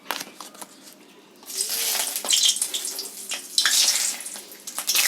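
Bay leaves hit hot oil in a wok and sizzle, a steady bright hiss that swells in after a quiet start and keeps crackling loudly close by.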